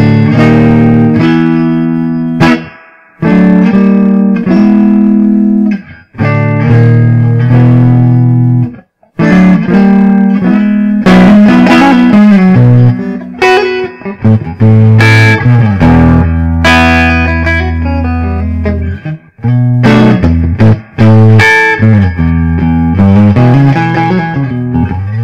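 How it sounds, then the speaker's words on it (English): An electric guitar from a GuitarAttack Saga kit plays through its neck pickup, giving round, bassy tones in a series of loud, sustained notes and chords. "the neck pickup is very nice. It's very round and bassy"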